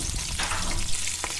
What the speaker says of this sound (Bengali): কালো জিরে আর কাঁচা লঙ্কা দিয়ে ফোড়নটা একটু নাড়াচাড়া করব।